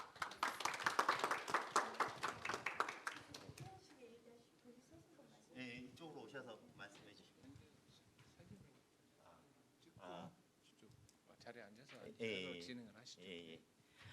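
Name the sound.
audience applause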